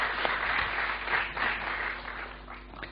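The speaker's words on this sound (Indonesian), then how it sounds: "Kita beri tepuk tangan untuk Ibu Min Uno dan Pak Heng Uno." Seminar audience applause at a business leadership event: a continuous, moderately loud crowd clapping that swells and eases slightly throughout, with no talking over it.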